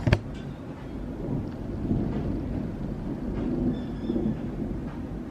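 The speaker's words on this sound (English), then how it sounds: "The thunder, can you hear that?" Low, rolling rumble of thunder spread across the whole stretch, steady and broad with no voices, like a storm grumbling in the distance.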